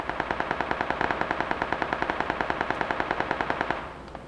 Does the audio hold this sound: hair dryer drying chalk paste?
no